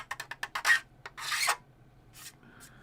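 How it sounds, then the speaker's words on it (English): Plastic is scraped off a model kit part for a Type 45 destroyer build in quick rasping strokes, first a rapid series of short scrapes, then longer drawn rubs, close and fairly quiet. "There's a lot of plastic being removed there."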